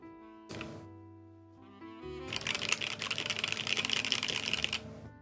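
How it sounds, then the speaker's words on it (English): Rapid clacking keystrokes come from a KBD67 Lite mechanical keyboard fitted with Gateron milky yellow switches and GMK Godspeed keycaps, starting with a couple of isolated presses, then a dense, close, continuous burst of typing. "This is the keyboard that I've been working on."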